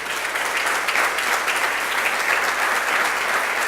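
Steady applause from a seated church congregation during an evening worship service, dense continuous clapping filling the room without pause.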